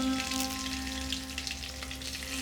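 Cumin, dry red chilli and curry leaves sizzle and crackle steadily in hot oil for tempering gooseberry rasam, a dense continuous fry heard close with a faint hum beneath and no talk.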